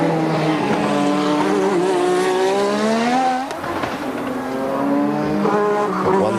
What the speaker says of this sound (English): Now Piquet on a quick one. He looks to have a fairly clear road in front of him